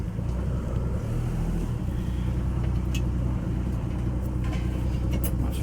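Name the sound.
old Chevrolet C10 truck driving after transmission repair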